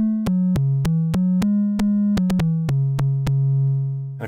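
A Pittsburgh Modular Double Helix Eurorack oscillator plays its sine wave output under exponential FM: a steady, loud low tone whose pitch steps slightly between notes, punctuated by a dozen sharp clicks at each new note attack.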